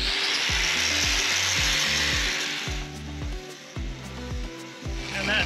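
A power tool turns and shapes a wooden boat plug during a boat rebuild, with repeated rhythmic spin-ups and grinding bursts. It is loud and close-up, with no talking.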